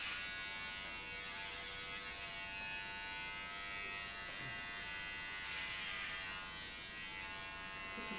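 Electric hair clippers cutting hair, a faint continuous buzzing hum with a steady tone that runs unbroken throughout, close and alone.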